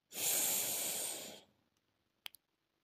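One long audible exhale during guided breathing, a breathy rush of about a second and a half close to the mic, fading into quiet followed by two small soft clicks.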